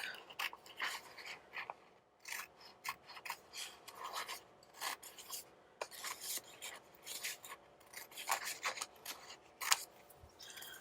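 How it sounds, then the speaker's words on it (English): Scissors cutting stickers out of a paper planner book, a run of quiet, close snipping and rasping cuts in an irregular rhythm with short pauses, no talking. "I'm just going to cut along the edge of the sticker"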